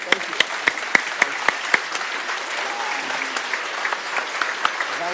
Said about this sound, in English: Let's all stand and give Ken a round of applause